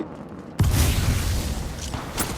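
A sudden loud grenade explosion in Apex Legends Mobile booms after a quiet moment, followed by a rumbling roar and debris-like crackle that slowly fades.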